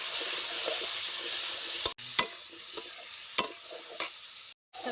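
Vegetables with salt and turmeric lightly frying in mustard oil left from frying fish, a soft continuous sizzle broken by several sharp spatula scrapes and knocks against the pan, close by with no talking.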